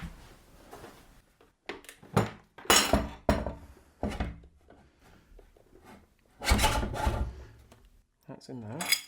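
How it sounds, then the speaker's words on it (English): Tightening grub screws with an Allen key on a Parkside pillar drill: close, intermittent metallic scraping, rasping and clinking in short bursts separated by quiet gaps. "And then tighten up the back 2 grub screws."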